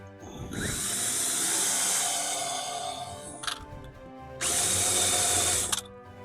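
Power drill countersinking a screw hole in a bus floor during a camper conversion: two high whining bursts, the first about three seconds long, then a pause with small clicks and a second shorter burst, close and loud.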